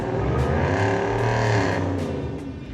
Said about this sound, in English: First pass, we're gonna scrub the rears, 2-wheel drive